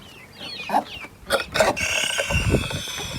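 Poultry in a coop holding turkeys, American turkeys and young guinea fowl, giving a few close clucks and short calls in bursts, with a rustling scuffle near the end.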